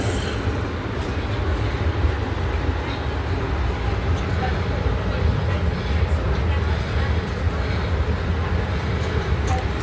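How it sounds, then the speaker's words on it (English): An express subway train runs non-stop toward Manhattan, its steady low rumble and rattling wheels filling the car continuously from start to finish, with faint clanks above the drone. "So this train non-stop straight to the city."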